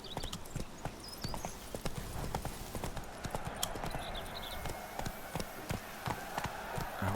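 Roach the horse's hooves clip-clop steadily along a rough path in Witcher 3, a fast, close run of sharp hoof strikes with an occasional faint whinny over an outdoor ambience.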